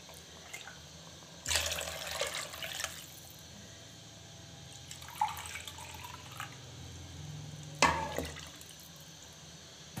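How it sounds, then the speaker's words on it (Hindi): Water poured from a glass into a cooking pot of chicken white pulao, about two and a quarter glasses, comes in three separate splashing bursts with quiet pauses between, close and moderately loud over a low background hum. "अब मैं इसमें पानी डाल दूँगी।"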